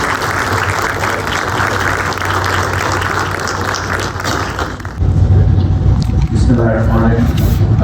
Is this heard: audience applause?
yes